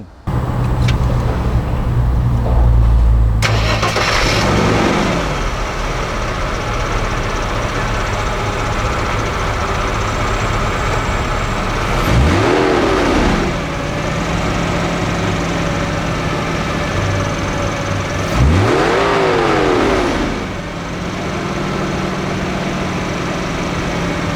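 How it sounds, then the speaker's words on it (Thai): A Mercedes-Benz 320CE C124 engine runs steadily, with three loud revs that rise and fall about every seven seconds over a constant idle. "มาฟังเสียงเครื่องยนต์กัน"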